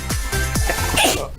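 A single short sneeze indoors during a Halloween game session, sharp and close, followed by brief voices.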